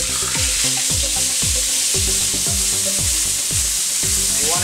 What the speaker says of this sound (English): You want to get a good sear